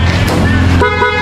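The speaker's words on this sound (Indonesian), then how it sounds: "kayak suara klakson mobil ya?" A Race Pro car-style horn fitted to a Honda CBR150 motorcycle blares loud and close in one sustained honk, with a brief shift in tone near the end.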